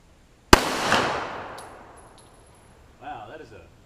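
A single sharp gunshot from a handgun without front sights cracks close and loud at a backyard mailbox, followed by a second thud and a long decaying rumble, then a faint metallic rattle as debris settles.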